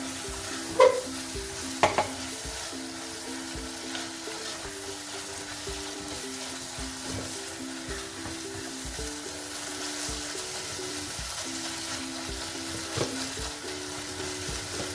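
Chicken mince frying with coriander, mint and lemon as qeema samosa filling: a soft, continuous sizzle with occasional clanks of stirring and a low steady hum underneath.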